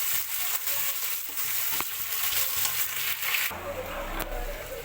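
Onions and chillies fry in hot oil in a pan, giving a steady, dense sizzle that runs the whole time, close up, with a few soft clicks and no talking.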